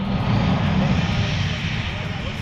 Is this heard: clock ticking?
no